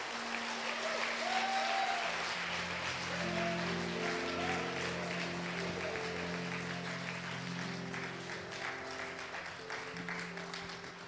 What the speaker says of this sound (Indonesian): Ayo dong yang hangat tepuk tangannya.